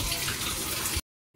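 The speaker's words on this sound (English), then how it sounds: "I just got this water running." Tap water runs for a hair wash, a loud, steady rushing gush from a faucet that stops abruptly after about a second, leaving near silence.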